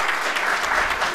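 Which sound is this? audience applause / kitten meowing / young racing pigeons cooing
audience applause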